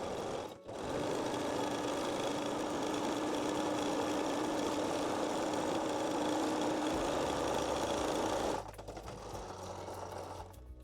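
A sewing machine runs a 3-step zigzag stitch over elastic on a bralette, a loud, steady close mechanical whirring with fast rhythmic needle pulsing that stops briefly near the start and eases to a lower hum toward the end.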